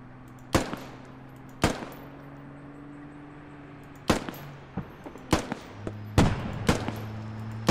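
Gunfire in the video game Squad: a handful of sharp, loud shots scattered irregularly, single cracks and short bursts, over a steady low hum of ambient game noise.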